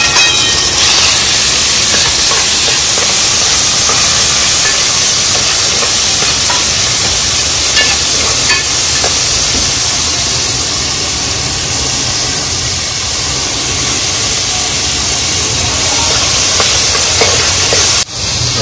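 Onion, tomato and chili sizzling in hot oil, a loud steady frying hiss filling the whole stretch without pause, with no talking over it.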